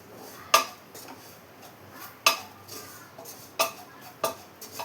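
A utensil knocks and scrapes against a pan while ground spices are mixed and heated over a low flame for a Kerala-style chicken kurma, giving five sharp metallic taps at irregular intervals over a soft background hiss.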